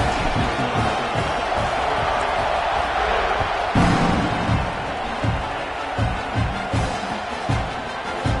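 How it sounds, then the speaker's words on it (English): A football stadium crowd roars steadily as a team lines up to kick off, a dense, loud wash of cheering with occasional thuds and shouts rising out of it. "They're set to kick it off, and this crowd now ready to get behind them."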